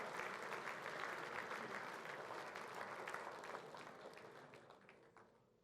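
An awards-night crowd applauds the SEN Division 4 Team of the Year at the Chandler Medal, a continuous wash of clapping that holds steady and then gradually fades toward the end.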